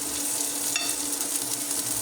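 Garlic frying until brown in a pan, giving a continuous, even sizzle at moderate level with no voices over it.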